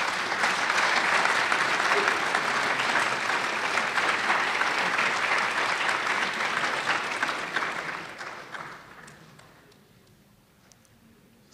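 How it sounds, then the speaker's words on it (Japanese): Audience applause at a coming-of-age ceremony in Shibukawa, a loud sustained crowd clapping for about eight seconds that then fades out into near silence. "ご来賓の皆さんに大きな拍手をお願いいたします。"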